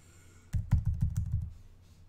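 A computer keyboard is typed on in a quick run of close, clacky keystrokes that lasts about a second, then stops, with no voices.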